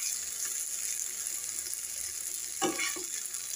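Eggplant fries in oil in a pan with a steady, close sizzle, broken by a short clatter of stirring near the end.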